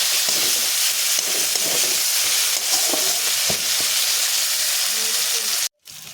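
A spice paste for an egg curry is stirred in a pan of hot oil after it has finished frying, giving a steady loud sizzle with scraping and stirring clatter throughout, then a brief gap near the end.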